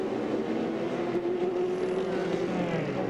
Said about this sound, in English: That's the number 51 car, Max Angelelli.